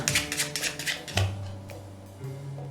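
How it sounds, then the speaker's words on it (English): A deck of playing cards being shuffled at a card magic table gives a quick, crisp papery riffle for about a second, then a low steady hum remains. "let me shuffle again"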